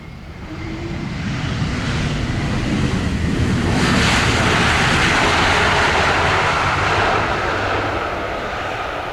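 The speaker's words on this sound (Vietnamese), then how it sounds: "Tạm biệt chiếc Airbus A321neo của hãng không Vietjet" Engines of a Vietjet Airbus A321neo at Tan Son Nhat airport give a loud, continuous jet roar that swells to a peak mid-clip, then eases slightly. The roar is up close, with wind-like rushing noise and no speech.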